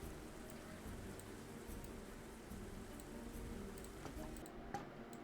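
Steady rain falls across a Planet Zoo park in the video game, a continuous hiss of drops with faint ticking patter, at an even level throughout and without speech.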